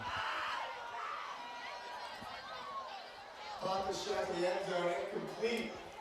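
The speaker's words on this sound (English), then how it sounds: "you can hear the boo birds coming out" Crowd noise at a high school football game swells into a low, sustained murmur of disapproval that grows louder partway through, heard from a distance beneath a voice.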